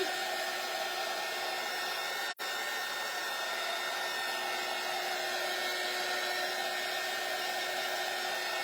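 A hair dryer blows steadily on a farmhouse-style Christmas tree craft, a continuous close whir with one brief cut-out partway through, then running on without talk.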